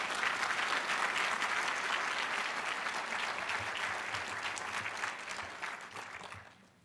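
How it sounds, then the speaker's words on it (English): An audience applauds student participants at a February One celebration at N.C. A&T, with steady dense clapping from a large crowd that holds strong for several seconds before fading away at the end. "Let's give them a round of applause, please."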